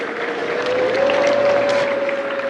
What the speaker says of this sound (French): Applaudissements du président de la République